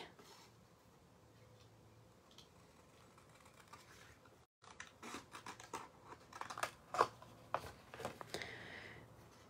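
Scissors snip through paper for a money gift card envelope, several close crisp cuts in quick bursts after a quiet stretch, faint and intimate.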